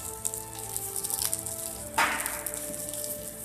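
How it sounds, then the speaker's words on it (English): Ginger, garlic and celery stir-frying in a hot pan, a soft steady sizzle close by with a few light clinks and a brief louder hiss partway through. "stir fry"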